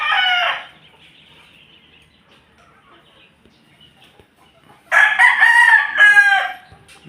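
White Kelso chickens in a backyard coop crow loudly in two bursts, one short at the start and a longer cock-a-doodle-doo near the end, with quiet clucking and faint farmyard noise between.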